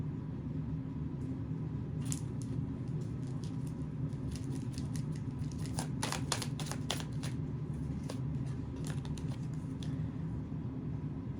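Soft riffling bursts of tarot cards being shuffled, clustered flicks around the middle over a low steady background hum.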